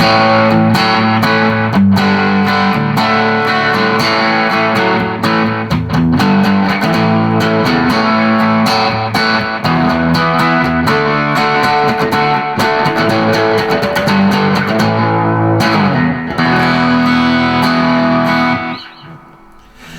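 Heavily distorted electric guitar chords through a Boss distortion pedal and a Tone Master amp ring out loud and continuous, with a thick saturated tone, fading out near the end.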